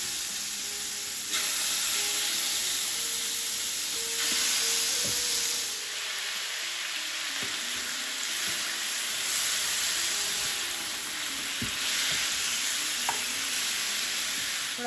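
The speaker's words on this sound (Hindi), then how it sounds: "जब ऑयल गर्म हो जाए तो आपने इसमें चिकन डाल देना है।" Chicken frying in hot oil in a large pot for a butter chicken dish, a loud continuous sizzle and hiss with occasional soft stirring knocks, close up and without speech.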